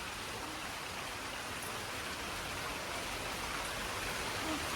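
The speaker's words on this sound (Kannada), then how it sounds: "ಓ, ಮಳೆ ಬರ್ತಿದೆ" Steady rain falls in an outdoor setting, a dense even wash of drops that stays at one level for the whole stretch, with no voices over it.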